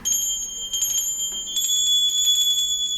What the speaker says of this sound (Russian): если даже их вот взять, они все равно будут, у них разный вот звон